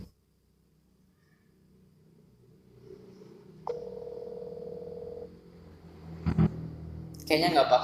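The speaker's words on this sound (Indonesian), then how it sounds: "Coba nih kita telepon lagi ya." A phone call placed again to an unanswering number: a steady electronic dialing tone sounds alone for about a second and a half, followed by a few louder bursts of line noise and tones, with no talk.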